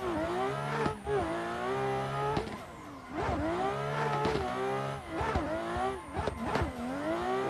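A BMW E36 race car in a racing video game revs hard through repeated gear changes, engine pitch climbing and dropping in a steady up-shift rhythm with brief lifts, loud and close, with no talk.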